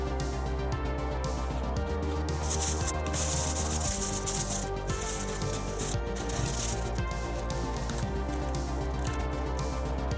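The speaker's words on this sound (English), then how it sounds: "you need to sand some more" Sanding across the painted and lacquered body of an Ibanez 7-string guitar, a steady close abrasive rubbing that runs throughout with a brighter, harsher burst of strokes partway through.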